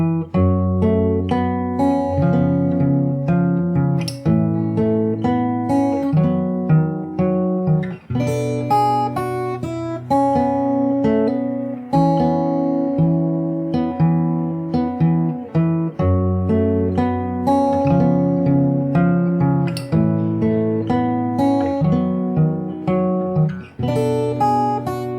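Fingerstyle acoustic guitar plays the chorus of a song, plucked bass notes under ringing melody lines in a steady, sustained rhythm, close and clear with no voices.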